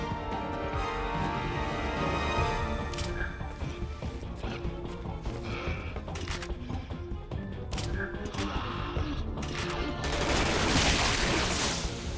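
Rapid gunfire from Resident Evil 6's Ada campaign, with repeated close, loud shots and bursts crackling over a dense, constant wash of game sound and music, swelling into a louder, noisier barrage near the end.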